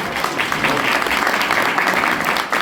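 Guests applauding a couple at a thirty-year wedding vow renewal, steady, fairly loud crowd clapping that carries on evenly.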